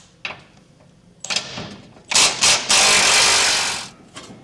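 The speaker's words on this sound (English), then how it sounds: "We're going to go ahead and remove all 4 of our 21 millimeter bolts that's holding on our cross member here." Ratchet and wrench work on the 21 mm cross member bolts of a 2024 Chevrolet Colorado during a hitch install: scattered metallic clicks, then a loud sustained burst of mechanical whirring or ratcheting, close and with no talk.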